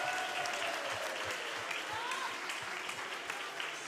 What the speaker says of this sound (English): I want all the mummies and daddies, grannies and grandads to give them a big round of applause